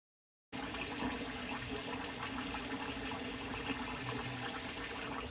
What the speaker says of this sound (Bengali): তো এই পাত্রটার মধ্যে ডুবু ডুবু জলে ভালো করে ধুয়ে ভিজিয়ে রাখবো।